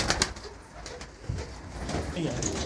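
Pigeons coo softly after being released, with short throaty calls mixed with rustling and a voice speaking nearby.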